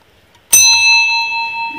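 A single bell is struck once, sharply and close by, then rings on with a clear sustained tone that slowly fades. There is no talk.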